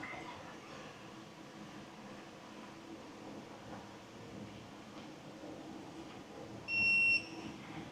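A digital torque wrench gives a single short electronic beep near the end over a faint, steady background hum.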